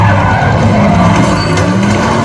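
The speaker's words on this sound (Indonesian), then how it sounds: "Di tengah pengejaran, mobil John harus terguling" Car tires skid loudly and continuously during a high-speed car chase in the film John Wick: Chapter 4, a dense roaring screech with engine rumble and no voices.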